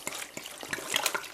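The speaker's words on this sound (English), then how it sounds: "and then pour in some red wine" Red wine poured from a bottle into a plastic Ziploc bag holding skirt steak, over a kitchen sink: a close, brief liquid splashing and trickling that runs steadily throughout.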